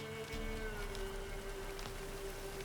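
Steady rainfall patters in the video game The Witcher 3 over a background with a sustained low tone, continuous and even throughout, with no voices.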